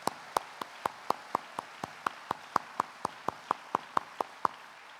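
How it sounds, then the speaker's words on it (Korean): Steady, evenly spaced claps in unison ring out at a Korean Christian business convention's worship gathering, about four per second for five seconds, sharp and moderately loud with no talking over them. "이 자리에 계신 만민의 기치 되신 우리 예수 그리스도께 큰 영광과 사랑의 박수를 올려드리겠습니다."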